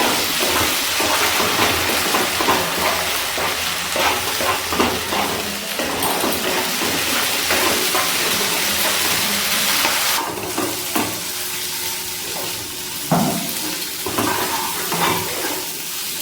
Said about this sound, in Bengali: টমেটোটা ভালো করে কষিয়ে নিতে হবে